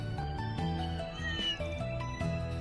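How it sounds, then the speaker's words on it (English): Cats in the video game Trails Through Daybreak II meow repeatedly at close range, one drawn-out, tonal call running into the next. "Purr, meow."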